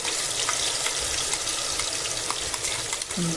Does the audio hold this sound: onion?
yes